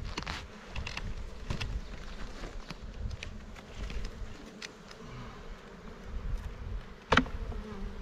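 A steady insect buzz of many honey bees from a captured swarm hums continuously throughout, with occasional louder passes close by and a sharp brief knock near the end.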